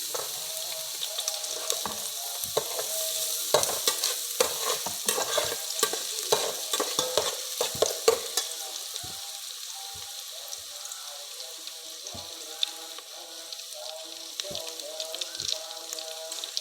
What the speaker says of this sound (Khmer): បងប្អូនបំពងខ្ទឹម